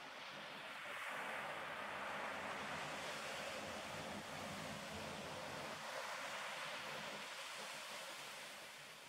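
Steady ocean waves on the Pacific, a continuous broad wash of surf that swells and eases slightly, heard alone without voices.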